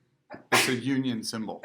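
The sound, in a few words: sneeze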